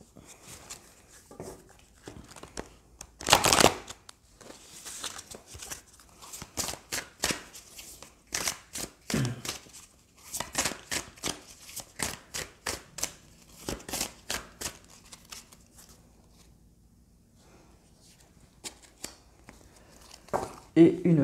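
Tao oracle cards are shuffled and riffled in quick papery bursts, close and crisp, in repeated runs with short pauses between them and a voice speaking at times.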